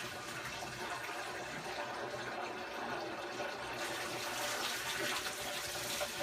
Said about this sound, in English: You will then very carefully pour the water out.